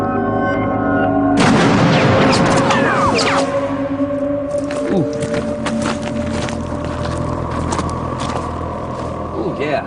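A loud, sudden explosion-like blast from a wartime demonstration at El Alamein bursts in near the start, followed by a long roaring, rumbling decay with wind-like noise and scattered sharp cracks; a voice talks underneath.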